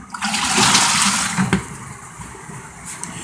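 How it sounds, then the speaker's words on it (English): A compact washing machine agitates through its rinse cycle, giving a steady close churning and sloshing of water with a brief surge midway and no talking. "And again, you can watch it agitate for the rinse cycle."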